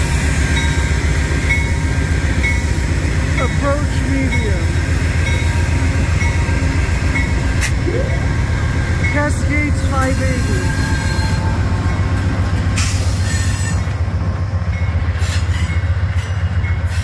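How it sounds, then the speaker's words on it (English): An Amtrak Cascades Talgo 8 passenger train rolls steadily past near Vancouver, Washington, loud and continuous, with high wheel squeals cutting in repeatedly over the rumble; a voice can be heard faintly. "This is a Vancouver train."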